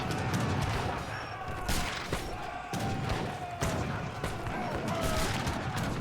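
Mortars firing in Age of Empires III: a few spaced heavy thumps, several seconds apart, mid-distance, over continuous battle clatter and game noise.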